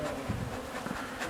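Honeybees buzz densely and continuously around an urban beekeeping hive, a close, humming swarm with no voices.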